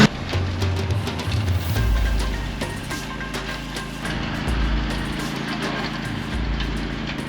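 A very old lawn mower runs steadily on an off-grid homestead, its engine droning close and loud with a low rumbling hum that dips and swells slightly throughout.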